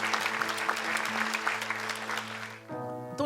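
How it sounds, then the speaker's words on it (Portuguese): A church congregation applauds in a thick, steady wash of clapping over a sustained organ or keyboard chord. The clapping fades near the end as the music carries on. "Dê um aplauso ao Senhor."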